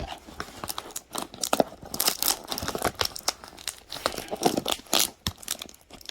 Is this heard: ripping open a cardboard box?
yes